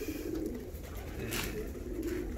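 Female fancy pigeons coo softly and repeatedly in a coop, faint and close, with low rumbling coos and background noise, no speech.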